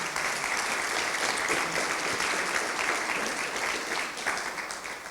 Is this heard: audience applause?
yes